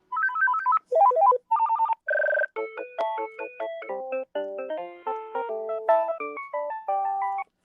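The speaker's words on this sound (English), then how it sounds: "this is the one made by VTech. Has that ringer." A VTech cordless home phone rings with a loud electronic ringtone, a string of rapid melodic beeps and tonal chimes that repeats in short bursts with brief gaps, heard alone without any talking.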